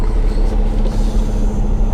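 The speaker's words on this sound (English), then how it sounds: "That's why the air compressor's running." Air compressor on a Peterbilt 389 truck running at a rest area, a low steady knocking engine rumble heard close and continuous for a couple of seconds.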